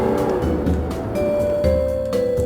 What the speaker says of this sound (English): I turned the wheel and headed towards the gas station in front of us